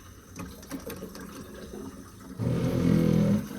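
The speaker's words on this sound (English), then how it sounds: "We're gonna see if we turn this water back on, if water comes out of this blue tube here." Water gushes from a blue tube once the supply is turned back on at a newly installed Tapmaster faucet system, a steady loud rushing flow that follows a few seconds of quieter clattering and handling noise.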